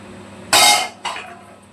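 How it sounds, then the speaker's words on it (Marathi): A ladle stirs food in a kadhai, making two close, loud metallic scraping strokes. The first is longer and stronger, followed by a shorter, fading second sweep. "मी अशी गोठून घेते पळीने गोठून घेते"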